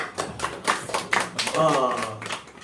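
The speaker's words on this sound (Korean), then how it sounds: "박수 부탁드려요." Congregation applauding inside a church during a sermon, a short burst of clapping with voices mixed in, fairly close and moderately loud.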